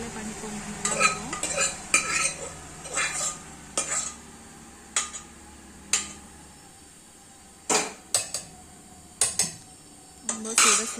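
Fenugreek leaf dal being mashed with a potato masher in a pot, sharp metallic clanks and scrapes coming in irregular bursts against a quiet background.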